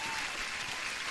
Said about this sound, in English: Huge applause to one of our members.